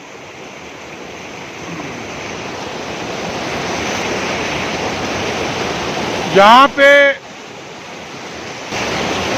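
Loud steady rush of water flowing beneath a mountain road on the route from Kel toward Sharda, a broad continuous roar with someone speaking briefly over it.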